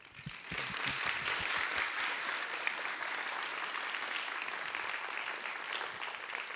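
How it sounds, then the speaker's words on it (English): Seminar audience applauding a speaker: dense, steady clapping from a crowd that swells in within the first second and holds at an even, fairly loud level to the end, with no one speaking over it. "please give them a warm applause"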